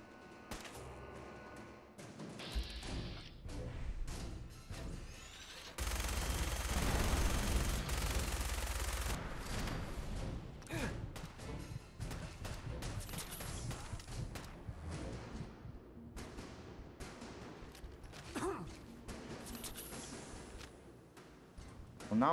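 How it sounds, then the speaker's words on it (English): Explosive gunfire from a weapon in Fallout 4, with rapid bursts of shots and heavy thumps. A loud sustained barrage runs in the middle and sporadic shots continue around it, with no speech. "I hear the explosion gun and I'm scared."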